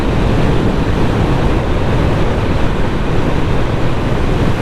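Heavy, constant wind buffeting roars over a standing Honda motorcycle rider behind a high screen, a loud broadband rush with no pauses and no talk.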